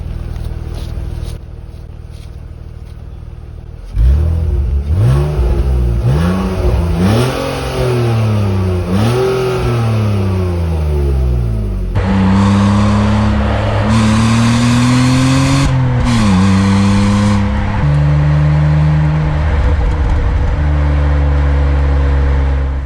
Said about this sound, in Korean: 순정 배기음을 한번 들려드리겠습니다.